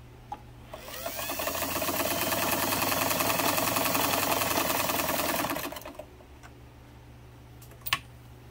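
A Singer 237 sewing machine runs at a steady, rapid clatter as it stitches a zigzag into fabric for about five seconds, then stops, followed by a few faint clicks.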